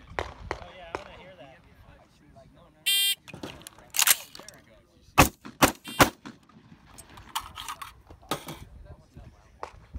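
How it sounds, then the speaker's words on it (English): A single sharp electronic beep sounds from a shot timer, followed by a rapid series of loud gunshots with brief pauses between them. "Wait for the beep."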